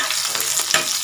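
Onion and whole chillies crackle in hot oil as a tempering for Odia dalma, making a brief, steady, close sizzle with a couple of soft stirring touches and no talking.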